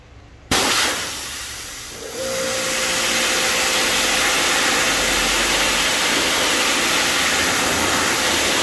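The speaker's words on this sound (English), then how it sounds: "Let me rinse off this brush to make sure I don't get any browning from the brush." A tire cleaning brush being rinsed under running water, a loud, steady spraying hiss that starts abruptly and continues without a break, with a faint thin whine running beneath it partway through.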